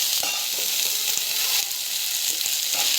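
Ingredients sauté in a pan with a dense, steady sizzle that stays loud throughout. Faint taps and stirring scrapes sit beneath the frying hiss.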